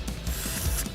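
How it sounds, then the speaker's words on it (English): A resin 3D printer makes an unusual grinding, ratcheting mechanical noise with a soft squidgy quality, steady and close, with no voices. "I don't know if I should be worried about that sound my 3D printer is making."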